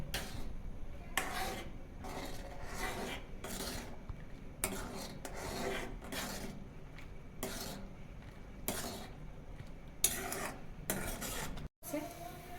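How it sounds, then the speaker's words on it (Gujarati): Vegetable Manchow soup is stirred in a pot over a full flame, with repeated close scraping and rasping strokes in a steady rhythm and no voices. "હવે બધું પાછું મિક્સ કરી દઈશું અને સૂપને પાછો ઉકળવા દઈશું ફૂલ ગેસે."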